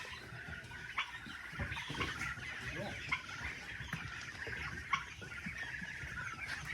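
Chickens clucking steadily on a regenerative chicken farm, a dense flock chorus with occasional louder squawks, fairly close and continuous.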